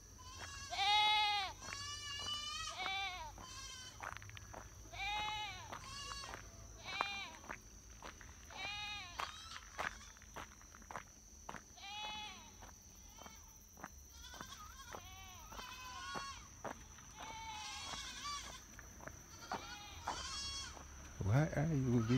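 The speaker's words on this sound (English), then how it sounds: "Why are you videoing the goat?" A goat bleats again and again on an evening walk in Malton, Manchester, Jamaica, its wavering cries coming close and loud in short bursts, with people talking in between.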